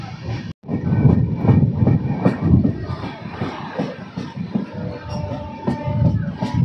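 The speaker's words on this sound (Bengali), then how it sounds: "এবং 11টা 49-এ আমাদের ট্রেন আবার ছেড়ে দিল" A passenger train running on rails between Kanthi and Ramnagar rumbles loudly and steadily, with rhythmic clatter and metallic squeals over a continuous low roar, after a brief dropout near the start.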